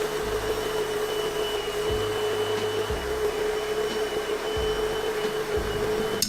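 A BISSELL SpotClean ProHeat steam and carpet cleaner runs steadily in a car, a constant loud motor whine with a shifting low hum as the nozzle moves, no voices.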